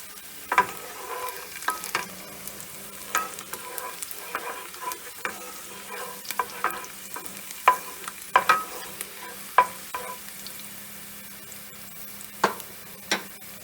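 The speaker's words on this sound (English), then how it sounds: "we want to get this kind of sizzling" Garlic sizzles in oil in a pan for a marinara sauce, a soft, steady frying hiss with scattered clicks and stirring taps, close and fairly quiet, with no talking.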